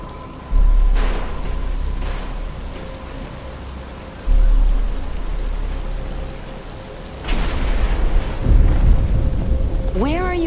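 Rain falling in the Batman: Return to Arkham video game, a steady hiss of downpour with heavy low thudding swells and rumbles, and voices talking over it.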